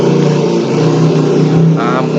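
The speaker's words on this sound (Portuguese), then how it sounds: "A moto desgraçada." A motorcycle passes loudly outside, its engine a dense, steady roar that fills the whole stretch with no break, while a voice talks underneath.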